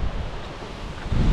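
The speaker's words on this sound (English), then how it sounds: "all of a sudden I noticed, it's getting a little breezy" Breeze picking up by the Boise River on a summer day before a severe thunderstorm, a steady broadband rush of wind buffeting the microphone with low rumbling gusts that swell toward the end.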